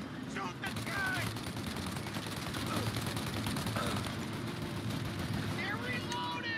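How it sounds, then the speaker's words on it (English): Sustained gunfire in a shootout in the video game Mafia: Definitive Edition, dense continuous firing with shouting voices over it. "Shoot out your gun when there's a break in the fire!"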